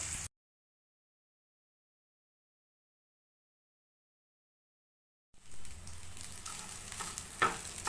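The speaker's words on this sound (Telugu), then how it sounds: "రైస్ వేసేసాము కదండి కలిపేసాము ఇలాగా" Rice stirred into a hot frying pan, a steady sizzle and scraping stir rising suddenly after a long silence and continuing close and moderately loud.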